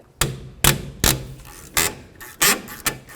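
A 10mm wrench cranks on the rear brake caliper bolts of a 2004-08 Ford F-150, giving about eight sharp, close metallic clacks and ratchet knocks at irregular intervals with no voices.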